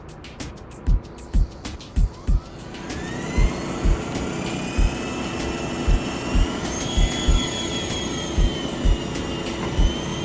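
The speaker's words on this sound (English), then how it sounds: "It flies just like a regular traditional flybar helicopter, except you have no flybars." A Walkera V370D01 flybarless RC helicopter in flight on stock settings, its rotor and motor whine steady with rising and falling pitch, accompanied by a regular series of loud low thumps.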